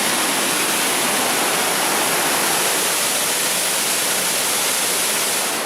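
Waterfall on the Izu Peninsula, a steady, dense roar of falling water that stays close and loud throughout, with no voices and no breaks.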